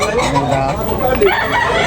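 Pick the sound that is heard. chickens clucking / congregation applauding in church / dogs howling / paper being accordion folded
chickens clucking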